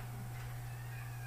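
A house cat gives a faint, brief meow indoors, heard alone over a steady low electrical hum.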